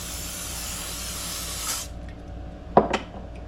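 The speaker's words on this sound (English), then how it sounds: "Spray my basket." Cooking spray hisses onto an air fryer basket in a steady, close spray for nearly two seconds, then cuts off, followed by a couple of short clicks and knocks.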